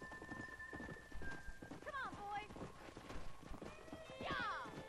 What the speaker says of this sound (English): I'm scared to make this horse go too fast